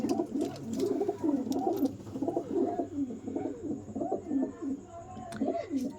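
Pet pigeons coo in a close, soft, repeated rolling rhythm, with several birds overlapping throughout and a few faint higher chirps.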